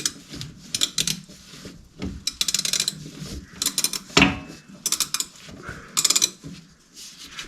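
Bolts being snugged down on a Kubota LX2610/LX3310 tractor during a 50-hour service give short bursts of ratchet clicking and metallic clanks, close and intermittent, separated by brief pauses, with no talking.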